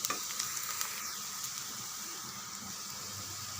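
Chopped onion sautés in a hot pan for rava upma, giving a steady close crackling sizzle with a few sharp pops and light stirring scrapes at the start.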